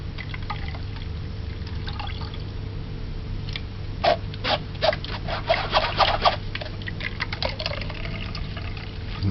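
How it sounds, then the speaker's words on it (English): Carrot and cucumber pulp squeezed by hand, giving a run of wet squelching bursts and trickling liquid over a steady low background hum, loudest in the middle of the stretch. "Squeeze the juice out"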